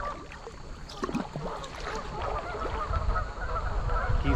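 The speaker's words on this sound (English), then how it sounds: "Geese are already getting nervous." Geese honking along the Flat River between Smyrna and Lowell, several overlapping calls from a short distance over a low rushing background of moving water.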